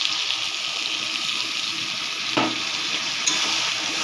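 Mixed vegetables simmering with milk in a pan are stirred, a loud continuous bubbling hiss with one brief scrape of the spoon partway through.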